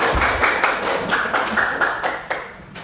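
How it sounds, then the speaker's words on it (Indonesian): A classroom full of people clapping for a group presentation in a steady, dense patter that slowly fades toward the end. "Tepuk tangan buat kelompok 3."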